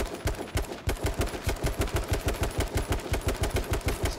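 Gunfire in the video game King of the Kill, a rapid automatic stream of evenly spaced shots, about six per second, steady and alone with no talk.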